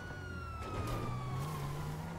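Police car sirens in Grand Theft Auto V on PS4, a wailing tone sweeping steadily across the clip over a dense engine and traffic wash, moderately loud and with no talk.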